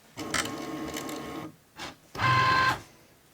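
A Cricut cutting machine cuts a neckline stencil for a custom t-shirt, giving a steady mechanical whir that pauses, briefly restarts, then runs again in a louder motorized burst, close by and with no speech.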